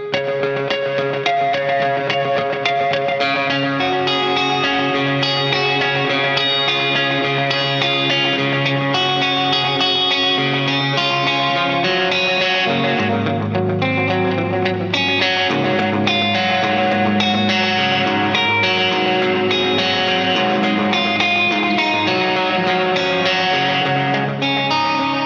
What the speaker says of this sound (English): a hip and funky analog delay pedal from Jack DeVille Electronics, the Dark Echo